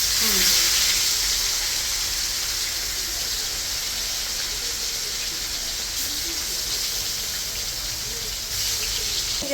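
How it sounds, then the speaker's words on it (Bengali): Constant sizzling hiss of chicken frying in a hot pan, loud at first and then settling into a steady crackle, with a brief voice. "এখন চিকেন দিয়ে দিলাম। চিকেনটা ভেজে নিলাম।"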